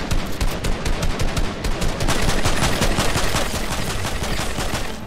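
Automatic gunfire in the Fortnite battle royale video game, rapid close bursts of shots firing in a continuous, driving rhythm for several seconds with no voices over it.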